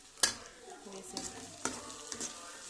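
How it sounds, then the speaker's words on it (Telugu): Washed broad bean seeds go into fried onions in a pan, striking with a sharp clatter, then a faint sizzle runs under a few scraping stirs of the spoon, close and quiet. "ఇప్పుడు చిక్కుడుకాయ గింజల్ని ఇలా చేసుకొని వేగిన ఉల్లిపాయల్లో వేసేద్దాం."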